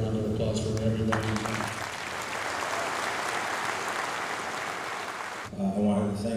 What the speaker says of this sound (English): you guys deserve a round of applause for everybody